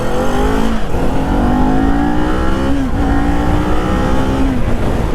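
A 2020 Kawasaki Z400 motorcycle accelerates through the gears, its engine note climbing steadily in pitch with brief dips at each shift, loud and continuous over constant wind rush, heard from the rider's position.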